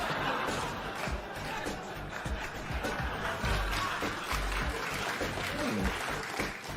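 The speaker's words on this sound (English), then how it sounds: "A slow gathering applause. It took many years, but the applause came in." Studio audience applause on a late-night political comedy talk show, a dense wash of clapping that holds steady throughout at a moderate level, with a few low thumps and some crowd noise mixed in.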